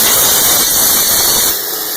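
Car starter with a bad overrunning clutch in its drive, failing to engage: a loud, steady high-pitched whine and hiss throughout, dropping slightly in level near the end, with no voices.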